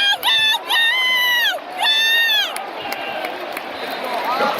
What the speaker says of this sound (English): Listen to the crowd noise.